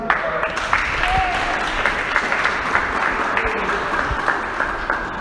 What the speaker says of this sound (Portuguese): pode aplaudir que é isso mesmo.